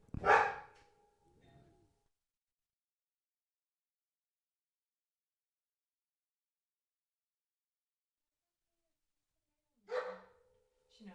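A dog gives a sharp, loud bark near the start followed by a softer yip, then long silence before another bark near the end, each brief and close.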